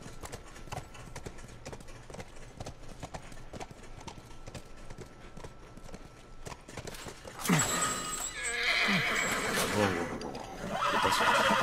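A horse in The Last of Us Remastered video game, its hooves clip-clopping in a steady rhythm before it lets out a loud, close neigh that carries through the second half, with voices heard early on.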